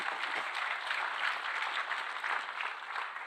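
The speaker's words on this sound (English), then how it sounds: "Time you can clap" Brief round of clapping from an audience at a software developer conference session, fairly quiet and distant, steady throughout with no speech.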